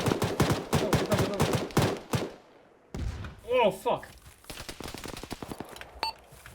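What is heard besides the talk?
machine gun fire in a video game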